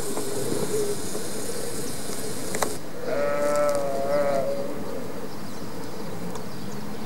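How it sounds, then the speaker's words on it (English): Sheep on a hillside behind a building in Gozo, Malta, give a couple of wavering bleats at a moderate distance over a steady outdoor hum and insect-like background noise. "at the back of the building there is some sheep on the hill behind"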